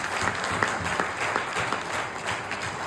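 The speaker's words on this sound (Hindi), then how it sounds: "सबसे पहले तो एक बार जोरदार तालियां चाहता हूं आप सभी लोगों के लिए" Audience applause at a motivational gathering, a steady wash of many hands clapping at moderate distance with occasional sharper individual claps.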